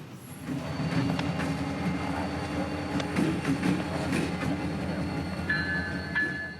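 Norfolk Southern 1080 locomotive hauling a train past in Jacksonville, Florida, a steady rolling rumble with rhythmic clickety-clack of wheels over rail joints and a thin high squeal late on, at moderate distance.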